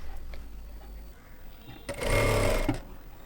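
A sewing machine stitching tucks into a blouse runs in one short, steady whirring burst of under a second, close by, after a quiet stretch with faint handling sounds.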